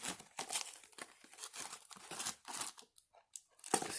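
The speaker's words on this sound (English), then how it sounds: "Alright, yeah, I'm gonna tear it open." Someone tears open the plastic wrapping of a Pokemon Battle Box from the side, making close, crisp, irregular crinkling and ripping bursts with short pauses between them.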